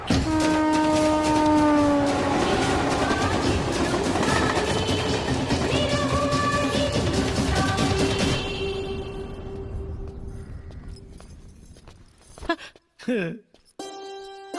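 A train running along the track with a long, sustained horn blast over the rumble, the noise then fading out before a few louder nearby sounds at the end.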